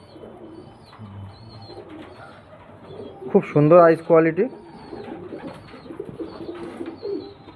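Pigeons at a home loft coo in a loud, clear burst of repeated throaty calls, close by, between stretches of someone talking.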